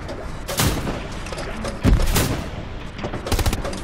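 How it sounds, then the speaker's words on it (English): A grenade blast in the World War II shooter Hell Let Loose, with several sharp, loud reports and booming thumps spread across a few seconds, heard up close with no talk. "He just blew himself up. He dropped his grenade when you shot him."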